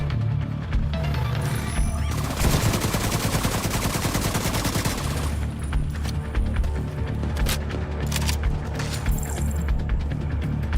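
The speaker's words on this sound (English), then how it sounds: "we can shoot through the wall" Dense automatic gunfire fired through a wall in the video game The Division 2, with rapid bursts and crashing impacts that are loudest near the start, then sparser shots and clatter over a steady game background.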